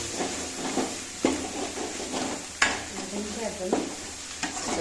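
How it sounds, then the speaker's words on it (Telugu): Gongura sorrel leaves frying in a pan with a continuous close sizzle and hiss, broken by repeated scraping stirs of a spatula at an uneven rhythm. "వాసన వస్తుంది గోంగూర వేగుతుంటే"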